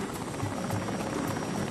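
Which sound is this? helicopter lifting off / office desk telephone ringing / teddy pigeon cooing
helicopter lifting off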